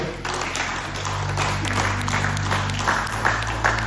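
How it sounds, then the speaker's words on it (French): A church congregation applauds after a sermon, with steady, dense clapping lasting about four seconds over a low sustained hum. "Acclamons très fort pour cette parole"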